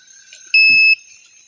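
A single sustained high-pitched electronic warning beep from a dog's electric fence collar, lasting about half a second, loud and close, with faint background hum before and after.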